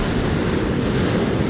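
Waves on the Sea of Galilee wash in a steady broadband roar mixed with wind noise on the microphone, loud and continuous, with no talk.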